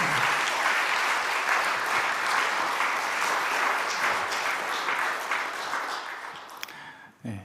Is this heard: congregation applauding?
yes